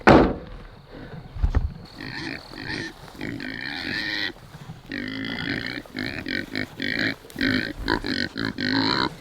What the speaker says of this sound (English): Let's see what these pigs are doing.